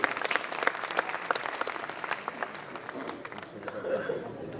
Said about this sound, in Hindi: एक बार जोरदार तालियां प्रिय दीपक के लिए।